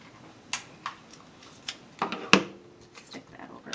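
Sticky tape pulled and torn for gift wrapping: a series of short crisp ticks and rips, with a sharper tearing burst near the middle, close and alone.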